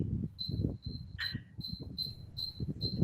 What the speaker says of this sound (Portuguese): A Ana Neta não vai dormir hoje com esse grilo aí.